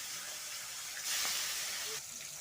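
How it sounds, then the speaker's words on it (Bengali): Fish rubbed with salt and turmeric frying in hot oil, a steady close hiss of bubbling fat with a brief louder surge of sizzle midway. "মাছটাকে আগে থেকে লবণ হলুদ মাখিয়ে নিয়েছি আর এখন এই যে তেলে ভেজে নিচ্ছি"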